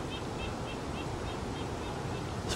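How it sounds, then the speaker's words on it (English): Pine Barrens tree frogs call in humid pinelands, a faint, regularly repeating series of short nasal notes about four per second, set back under a constant hiss of background noise. "frogs, tree frogs, I believe. Pine Barrens tree frogs."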